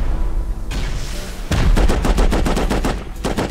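Automated turret in the Rust survival game firing a rapid burst of gunshots, loud and close, a dense rhythmic stream of cracks lasting about two seconds after a short lead-in.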